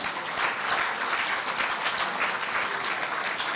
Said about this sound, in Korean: 박수를 맞아주시기 바랍니다